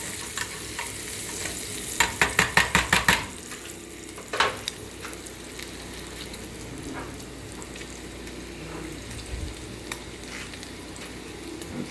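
Bacon frying in a pan on a cooking show, a steady sizzle throughout with a quick burst of rapid scraping stirs early on and a few scattered utensil knocks, no talking.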